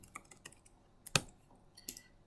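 Keyboard keys tapped to type a folder name, a handful of sparse, quiet clicks spread over two seconds, with one sharper, louder keystroke near the middle.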